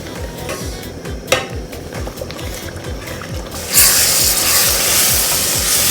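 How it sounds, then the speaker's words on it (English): A utensil scrapes and knocks in a pot while gizzard stew fries, with rhythmic stirring strokes and a clack partway through, followed by a louder, steady sizzle. "So give it a stir."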